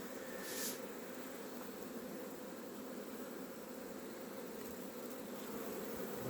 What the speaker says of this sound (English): Look at the bees.